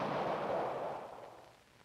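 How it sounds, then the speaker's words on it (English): A cannon firing a cannonball in an old 1963 educational film, a single muffled boom that starts strong and fades away over nearly two seconds. "This time, we'll shoot the cannonball harder and faster."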